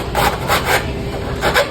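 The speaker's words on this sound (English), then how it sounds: "I just take a file" A hand file rasps across freshly cut metal edges while deburring an access opening on a telephone pole, making a few short, close scraping strokes.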